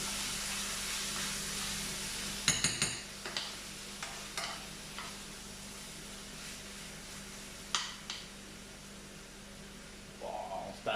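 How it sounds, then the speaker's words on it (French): Veal and quinoa are stirred with meat juices in a pan, a faint steady sizzle running underneath while scattered scrapes and clicks of the utensil come and go. "on va mélanger au jus de la viande"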